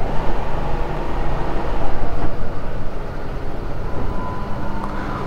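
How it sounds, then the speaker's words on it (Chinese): An Aprilia SR GT 200 scooter runs with a quiet, steady engine drone and low rumble, heard alone and fairly close. "到了这个里面，大家听一下引擎声音。"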